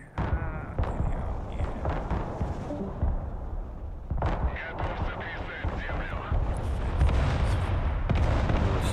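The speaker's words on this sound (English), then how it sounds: "those are rockets, aren't they?" Rockets firing in the military strategy game Broken Arrow, a string of loud booming launches and blasts in irregular bursts, with someone talking over the barrage.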